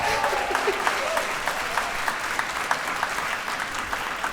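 An audience at a business training talk claps and cheers, a dense continuous round of applause with sharp individual claps standing out, moderately distant and held steady throughout.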